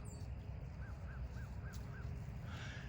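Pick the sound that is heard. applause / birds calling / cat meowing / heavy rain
birds calling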